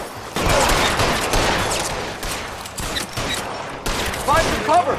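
Gunfire in a shootout in LA Noire on PS4, a loud dense burst of shots and crackling impacts with a few sharper bangs, fairly close and continuous over the span.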